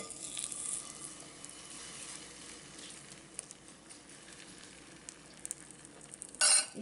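Veggie omelette batter loaded with vegetables sizzles in a hot pan, a soft, steady frying hiss with occasional light spatters and a brief louder clatter near the end.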